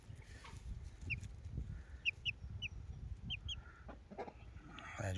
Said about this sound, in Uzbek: Mana shular bir oylik jo'jalar, lekin juda katta gavdasi